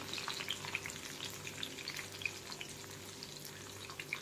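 Coriander leaves deep frying in hot oil until crisp, a steady fine crackling sizzle with scattered sharp pops, fairly soft and continuous with no voices.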